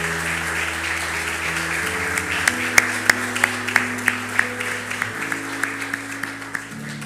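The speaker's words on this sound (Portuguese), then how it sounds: "Vamos dar uma salva de palmas." A church congregation applauds in a steady wash of clapping. Sustained low keyboard or organ tones hold underneath, and a few sharper claps stand out near the middle.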